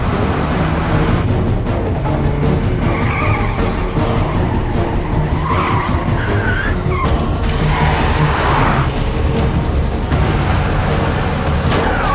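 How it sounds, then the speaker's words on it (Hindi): A car skids with failed brakes in a Hindi-dubbed action film. Tires squeal loudly and continuously over a roaring engine, with a few rising screeches in the middle of the slide. "ब्रेक्स नहीं लग रहे, ब्रेक्स नॉट वर्किंग।"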